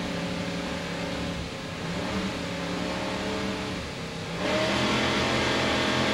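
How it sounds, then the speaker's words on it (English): Loud, steady roar of Mercury inboard powerboat engines with harmonic drone that swells sharply near the end as the motors rev up at a 2002 Daytona race start, no voices. "Let's listen to those Mercury engines as they rev up and start the race."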